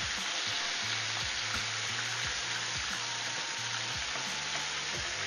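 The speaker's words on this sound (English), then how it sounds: "We're gonna fry it for a few minutes on each side." Pieces of liver frying in oil in a pan, producing a loud, dense, unbroken crackling sizzle close up, with a faint tonal background under it and no speech.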